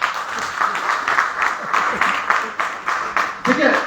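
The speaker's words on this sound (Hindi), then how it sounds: "सभी साथी तो अपने लिए जबरदस्त तालियां।" An audience at a business seminar claps in loose, rhythmic bursts, fairly close and lively, with a voice briefly audible near the end.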